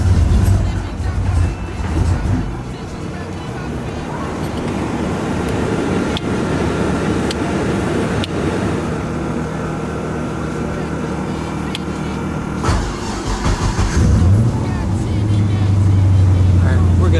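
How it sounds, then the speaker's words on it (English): Nissan 350Z engine starting and idling during a radiator leak repair, a steady loud mechanical drone that holds throughout, with a swell near the end as the engine revs slightly. "let's just go ahead and start it up and get it warmed up a little bit"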